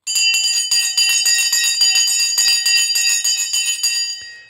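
The stock market opening bell is rung on a livestream: a loud, bright electric bell rattling in rapid repeated strikes for about four seconds before cutting off, alone without talk.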